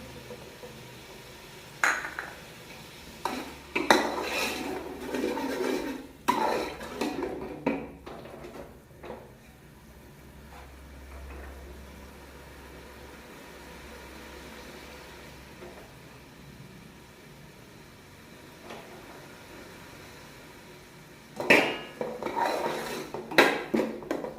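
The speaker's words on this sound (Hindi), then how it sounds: "लहसुन का पेस्ट इसमें मिक्स करेंगे।" Garlic paste is stirred into cabbage in a pan, with a metal utensil clinking and scraping against the cookware in bursts, a quieter stretch in the middle and a final clatter near the end, close up and without talk.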